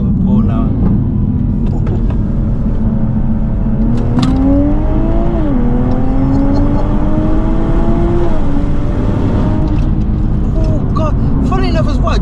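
A tuned 420 bhp Toyota Supra with the B58 engine accelerating hard through the gears, loud and close, its engine note rising in pitch, dropping briefly at each shift, then climbing again.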